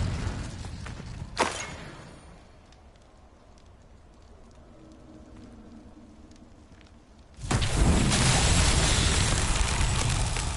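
A burst of spell-casting from the Hogwarts Legacy game: a sharp crack near the start, a quieter stretch of low rumble, then a loud, sustained roaring rush of fire that fills the last few seconds.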